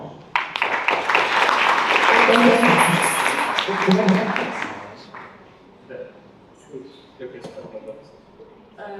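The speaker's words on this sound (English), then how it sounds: "So a round of applause for Alexandra." A symposium audience claps for about four seconds in a dense burst that fades out, with voices talking over and after the applause.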